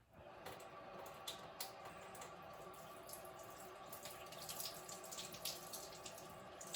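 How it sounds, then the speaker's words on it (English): Kitchen tap water runs steadily into a sink while grapes are rinsed under it, a continuous soft splashing stream with small spatters, fairly close, with no talking. "I'm just rinsing my grapes off."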